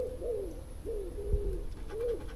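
Soft, repeated cooing of a dove or pigeon, several low hooting phrases in a steady rhythm, fairly close over quiet outdoor background.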